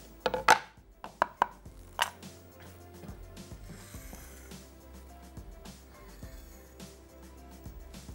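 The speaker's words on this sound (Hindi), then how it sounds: "प्याज दरमियानी, इसको स्लाइस करके हमने रफली सा चॉप कर लेना है" Knife chopping a medium onion on a board, a burst of sharp, close, quick strokes at first, then quieter scattered taps and faint clatter over a low background hum.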